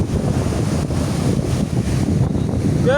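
Large sea waves churning under strong wind, a loud continuous roar with heavy wind buffeting the microphone throughout and no voices.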